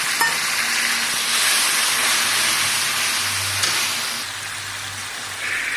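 Tamarind spice mix dropped into a pan of browned fried onions, making a loud dense hiss that fades slightly toward the end, with no one speaking.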